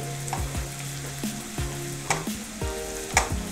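Red chilli powder, ginger and cumin powder sizzling in a pan with onions while being stirred, a continuous close frying hiss broken by repeated scraping strokes of the spoon.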